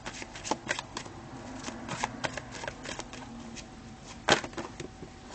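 Tarot cards are riffled and shuffled close up in quick, papery bursts of snapping flutters, with one sharper slap partway through, steady and unaccompanied by talk.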